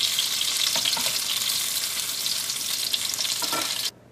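Fish pieces sizzle and crackle steadily in hot oil for a Kerala fish pickle, with a little stirring or handling, and the sizzle stops abruptly at the end.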